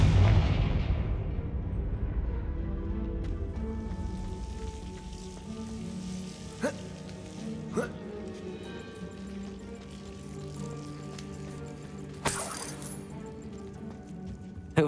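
Fire spell blasts in Hogwarts Legacy: a loud boom opens, then a long crackling, sizzling burn with tonal magical hum and a few sharp crack accents, the brightest burst near the end.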